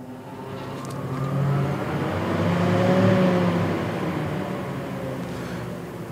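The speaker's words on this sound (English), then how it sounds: "up top here, we'll power the machine up." A SMAW welding machine powers up with a steady, rising hum and whir that holds level for several seconds at close range, no talking over it.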